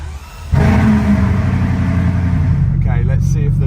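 A damaged Bugatti Chiron pulling away under power, its engine note jumping up abruptly and holding a loud, close rumble while a voice speaks over the end.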